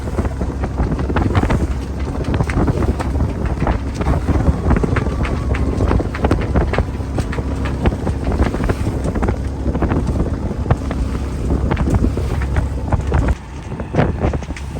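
Strong high wind roars across a small motorboat with a tiller and a new outboard motor, a loud, constant buffeting rush on open, cold water that lasts throughout with no talking.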